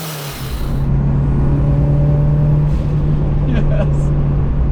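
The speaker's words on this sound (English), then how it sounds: "The turbo sounds like this." Mitsubishi Eclipse GSX with an aftermarket turbo and Hellcat parts, driven on a winter road, gives a steady, loud engine drone with a low hum and rising whir, recorded from inside the car.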